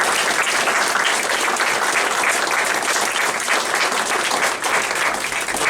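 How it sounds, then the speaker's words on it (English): A round of applause from a crowd at a church school Yolka event: dense, steady clapping from many hands, loud and sustained throughout, with no talking on top. "So I think Monteshka and Katie and Annette deserve a round of applause also."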